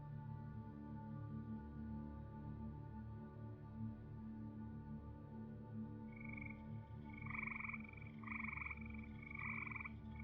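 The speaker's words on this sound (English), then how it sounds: "I have better frog calls than that one." A recorded frog call plays over a steady low drone, with a sustained croaking tone joined in the second half by four short, evenly spaced ribbit-like chirps, clear and moderately loud.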